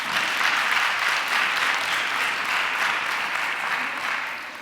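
A crowd at a rezoning meeting applauds loudly and continuously, a dense wash of clapping that holds steady and tapers slightly at the end.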